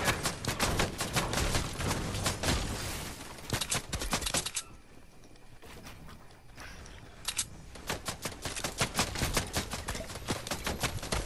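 Rapid bursts of gunfire in a Fortnite trio squads match, dense loud volleys that drop out briefly mid-way before the shooting resumes in sharp repeated cracks.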